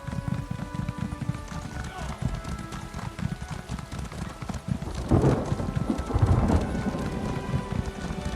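Horse galloping in The Elder Scrolls Online, a steady drumming of hooves under a continuous game soundscape, with a voice speaking partway through.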